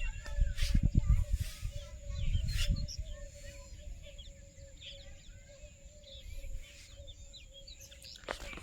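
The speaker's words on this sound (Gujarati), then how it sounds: "પક્ષીઓનો કલરવ અવાજ ચલો મધુર સાંભળવા મળે" Birds chirp in a village with scattered thin calls over a steady background hum, while a nearby voice talks over the low rumble in the first few seconds.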